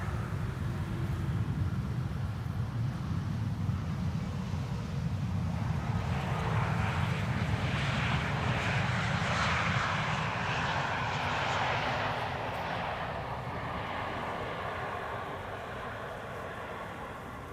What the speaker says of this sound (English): Here we have the E2 Embraer.